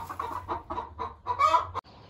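Several chickens cluck close by in short repeated bursts, building to a louder squawky cluster before stopping abruptly.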